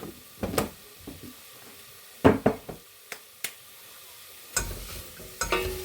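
Homemade desi ghee hits a hot pan for a dal tadka, giving a few short sizzling bursts and clinks separated by quiet gaps, with no talk over it.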